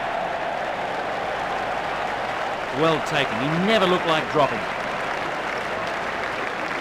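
A cricket crowd applauds steadily at an ODI match, its clapping a dense, continuous wash heard from a distance while a commentator talks over it.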